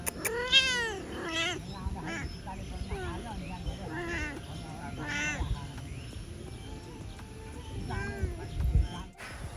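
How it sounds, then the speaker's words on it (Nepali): A cat gives a series of drawn-out, rising meows, about five of them spaced unevenly, fairly close against a quiet background with light voices in between. "बिरालो अघिदेखि मलाई हेरै छ कि कस्तो त्यो के अरे म्याउ म्याउ गरेको छ क्या"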